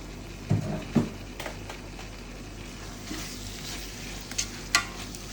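Mint leaves for mutton biryani being sautéed in a pan, with a soft steady sizzle and a few sharp utensil scrapes and knocks as the leaves are stirred.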